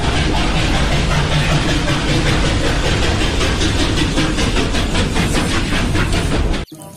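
A toy train plays a loud, steady recorded rail clatter with a rhythmic rumble and clickety sound, running continuously up close before cutting off abruptly near the end.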